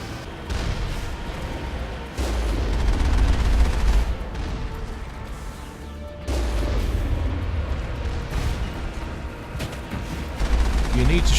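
Enemy gunfire aimed at the player in the sci-fi shooter Mass Effect, steady bursts of shots and rumbling impacts spread through the clip at moderate loudness under a layer of game ambience.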